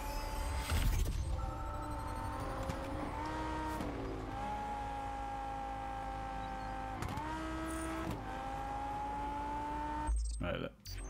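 Car engine driving in the racing video game Test Drive Unlimited Solar Crown, a steady droning engine tone that climbs and drops through gear changes, with brief tire noise and a sudden cut near the end.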